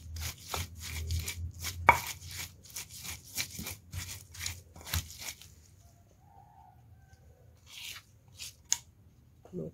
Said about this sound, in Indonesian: 2 butir kemiri juga kita haluskan bersama bumbu-bumbu yang lain